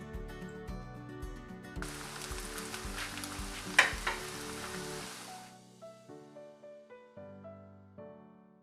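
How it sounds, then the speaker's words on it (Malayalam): Chicken wontons fry in oil over a low flame, giving a steady crackling sizzle with one sharp pop that fades out partway through, set under continuous background music. "അതുകൊണ്ടാണ് ലോ ഫ്ലെയിമിൽ ഇത് ഫ്രൈ ചെയ്തിട്ട് എടുക്കുന്നത്"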